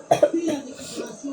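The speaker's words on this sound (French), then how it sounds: "Alors oui, je tousse, vous en faites pas." A couple of short, close coughs in quick succession, followed by a soft throat-clearing sound.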